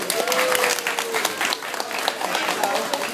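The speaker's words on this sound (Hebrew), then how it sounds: "בהחלט מגיע לרקס קצת יותר מחיאות כפיים." Audience at the Hamat Gader parrot show applauding the parrot Rex, dense lively clapping filling the space, with crowd voices and a speaker talking over it.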